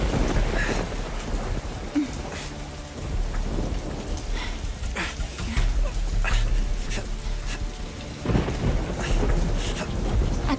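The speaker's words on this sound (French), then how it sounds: "on va attendre ici que l'orage passe." Heavy rain during a thunderstorm, steady and loud throughout, with low rumbling bursts of thunder and scattered drips and knocks near the listener; no clear talk.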